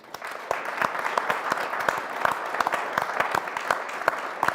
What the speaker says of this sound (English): a big round of applause again to our dear speakers from New York City